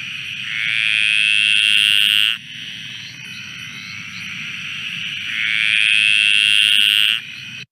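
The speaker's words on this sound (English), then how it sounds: "Next, we have the graceful tree frog," Two long, bright, trilling calls of the graceful tree frog, each lasting about two seconds, rise out of a steady high-pitched chorus with low rumbling background noise.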